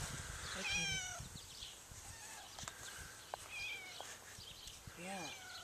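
Farm cat meows a few times, thin and fairly close, spaced out between quiet outdoor ambience with people talking nearby.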